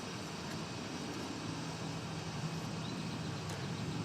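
Incoming aircraft on approach at DFW Airport, a steady broadband engine roar heard at a distance, continuous and even with no breaks.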